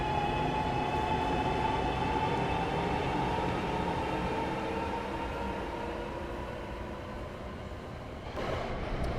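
An Arrow III train in Train Sim World 6 runs with a steady rumble and hum, plus a faint whine. The sound is continuous and fairly loud, with no speech.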